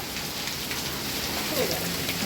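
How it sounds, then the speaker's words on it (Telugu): Heavy rain pours down in a steady, dense hiss that fills the whole moment without a break. "వామ్మో పెద్ద వర్షం"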